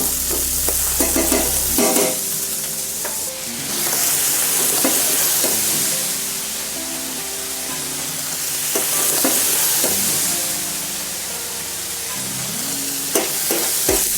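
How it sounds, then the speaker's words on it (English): Cuttlefish frying with paprika in a paella pan for squid ink paella, a steady loud sizzle with repeated scraping stirs and occasional clanks of a utensil, no voices. "We'll give the cuttlefish a few turns because we don't want it to fry too much either."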